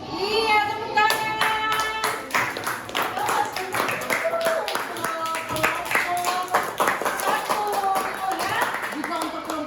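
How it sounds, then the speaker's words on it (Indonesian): Fifth-grade pupils in an elementary school classroom in Ambon clap their hands in quick, sharp bursts while children's voices and chanting carry over the clapping throughout. "Iya, tepuk tangan."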